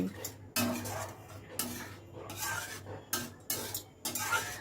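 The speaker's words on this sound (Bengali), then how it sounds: "আবার সব কিছু ভালো করে মিশিয়ে দিলাম" A spoon stirs cabbage curry gravy in a pot after water has been added, making several faint scraping, sloshing strokes at a steady pace.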